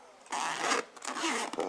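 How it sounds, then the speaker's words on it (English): Zippers on an ArcEnCiel hiking daypack being pulled open and closed up close, two or three quick rasping strokes with no talking. "Those are the zippers."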